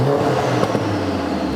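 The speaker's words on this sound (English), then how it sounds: "get some proper revs out of this." A Mercedes A45S AMG with a freshly fitted new exhaust revs close by, one loud sustained rise in engine note with a slight blip partway through, no voices over it.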